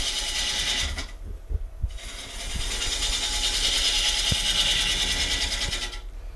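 A gouge roughs a chainsawn wood bowl blank spinning on a lathe, giving a loud, steady hissing shear that drops out briefly near the start, with scattered knocks as the tool meets uneven wood.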